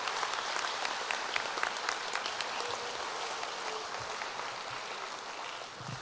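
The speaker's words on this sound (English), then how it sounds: "So students, let's applaud your families, please." Middle school promotion ceremony crowd, students applauding their families in a steady, dense roar of clapping that fills the hall for several seconds and tapers slightly at the end.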